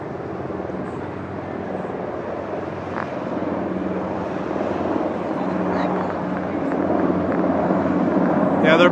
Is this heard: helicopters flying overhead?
yes